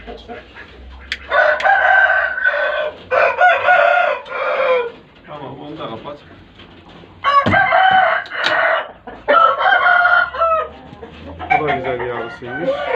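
Roosters crow loudly and repeatedly in a coop, long drawn-out calls in several bursts, with clucking and low voices between them.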